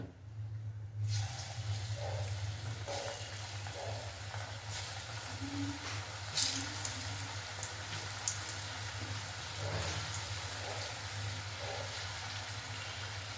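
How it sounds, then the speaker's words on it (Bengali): Jackfruit koftas fry in a wok of hot oil, giving a steady bubbling sizzle with scattered crackles and pops that runs unbroken from start to finish. "কড়াইতে তেল দিয়েছি তেলটা গরমও হয়ে গেছে এবার কোপ্তাগুলো ছেড়ে দেবো ভালো করে ভেজে নেব"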